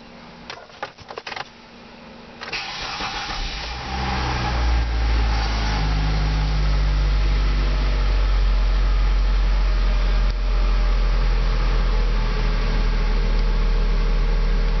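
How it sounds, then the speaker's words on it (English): A 2001 Mitsubishi Galant with a faulty transmission, in neutral, cranks with a few rough clicks and catches, then its engine settles into a loud, steady idle that rises as it is revved, continuing for several seconds. "I'm gonna rev it up to see if I can get it moving a little."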